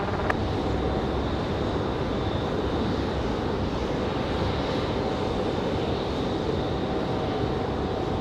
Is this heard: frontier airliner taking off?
yes